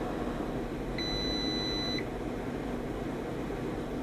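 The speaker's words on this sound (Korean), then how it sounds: "금방 소리 들은 것처럼 일단 자기 포인트에서 안정화가 됐다고 판단이 되면 알람이 울리게 되고요" Temperature calibrator alarm sounding once its PID-controlled block settles at a 65-degree setpoint: a single steady electronic beep about one second long, clear over a constant low hum of fans and heating/cooling.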